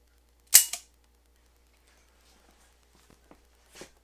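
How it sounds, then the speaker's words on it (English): A double-action trigger pull on a Smith & Wesson Model 66 Combat Magnum revolver with a 3-inch barrel and a tuned action ends in a sharp metallic snap as the hammer falls. Fainter small clicks follow in a quiet room. "First, we'll check the double action pull."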